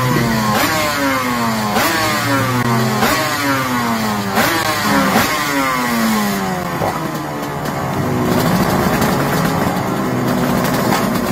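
A 250GP two-stroke racing motorcycle engine revs hard and repeatedly, each rising wail climbing sharply then dropping back, close and loud throughout, with a rough, buzzy continuous drone toward the end.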